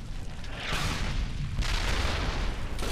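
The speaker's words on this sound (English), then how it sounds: "Shooting at me?" Gunfire and heavy booms in the World War II shooter Brothers In Arms: Hell's Highway roll on continuously in a loud, close battle.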